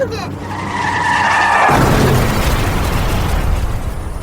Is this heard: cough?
no